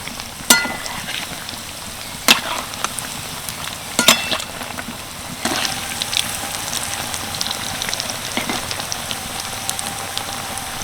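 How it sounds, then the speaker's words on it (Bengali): Cabbage-and-chicken bombs frying in hot oil over medium heat, a soft continuous crackle broken by several sharp clinks and pops as pieces are turned, close and fairly quiet, with no speech. "এক পিঠ ভেজে নিয়েছি এবার সবগুলো বম উল্টে দেবো"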